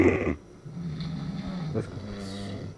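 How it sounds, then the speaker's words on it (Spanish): Low, rumbling snores from two snorers, steady guttural breaths with a brief sharper snort midway, heard close and moderately loud. "hay dos ronquidos y roncan."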